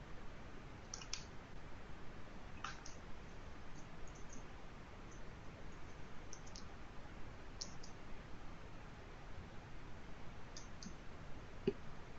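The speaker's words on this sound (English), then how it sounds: "So we will click on yes." A computer mouse gives faint, scattered clicks over a steady hiss of background noise, a few single and double taps spread through an otherwise quiet stretch at a desk with no speech.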